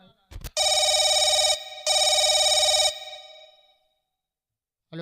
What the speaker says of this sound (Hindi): सर फोन आ रहा है।